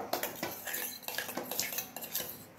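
A utensil stirs and mixes in a metal pot with rapid, close clanks and scrapes in an uneven rhythm, fairly loud throughout, no speech.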